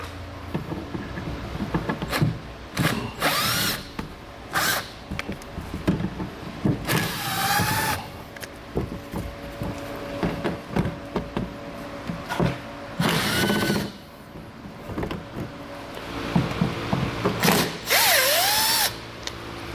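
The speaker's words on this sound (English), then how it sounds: "So we're going to go ahead and remove those with a T25 Torx bit." Power tool driving a T25 Torx bit to remove bolts from a 2016 Volkswagen while mounting a hidden trailer hitch, heard as repeated short whirring bursts with ratcheting clicks, close and fairly loud, alone.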